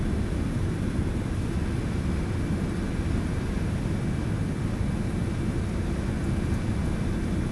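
Steady, loud broadband roar from the engines of a McDonnell Douglas MD-11 airliner in Microsoft Flight Simulator, a constant dense drone with no change in pitch or level and no talk.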